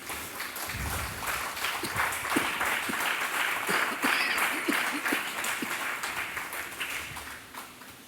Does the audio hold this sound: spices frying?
no